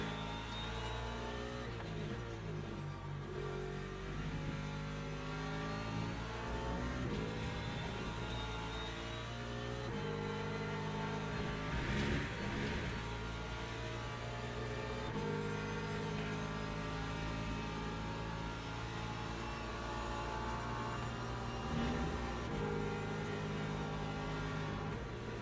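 Race car engine in a racing video game at Spa and Fuji, revving steadily with rising and falling pitch through gear changes and downshifts, loud and continuous with no talk.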